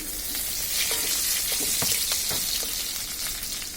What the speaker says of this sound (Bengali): এখন রসুন কুচিগুলো দিয়ে দিচ্ছি